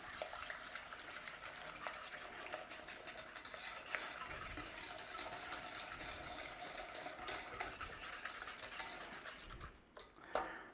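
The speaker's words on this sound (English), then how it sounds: "Get an egg in there, and we want to beat that in." Steady scraping and stirring of a whisk or spoon against a pan as an egg is beaten into warm lemon curd, continuous and close, with brief clinks near the end.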